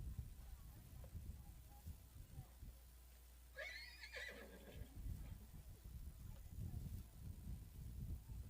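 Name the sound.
horse whinnying at a horse show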